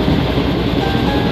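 A train runs steadily along the rails during a journey near Rawalpindi, giving a loud, continuous rumbling roar heard close from inside, with no break across the short stretch.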